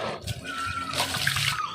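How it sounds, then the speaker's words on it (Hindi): Spring water trickles without pause from tree roots beside a village path, a soft, steady wash of running water heard close and fairly quiet, with no one speaking. "वहाँ पे पेड़ों की जड़ों से निकलता है पानी"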